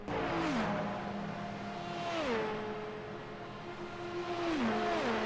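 An LMP2 prototype race car's engine in an IMSA multi-class racing video game drones steadily, its pitch stepping down through several clean gear changes in a smooth, continuous run.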